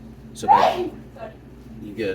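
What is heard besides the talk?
sneeze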